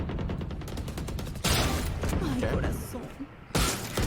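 Marshal sniper rifle no-scope shots in the shooter game Valorant, with sharp gun cracks and impacts over game sounds and continuous voice commentary.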